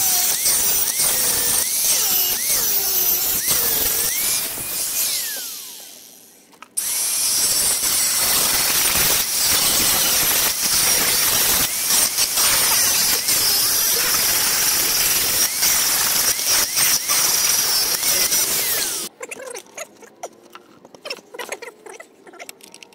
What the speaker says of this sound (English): I'm going to grind off the old bolts first.